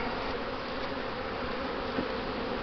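Honeybees buzzing around an open hive during an inspection, a steady, close, continuous drone with no talking.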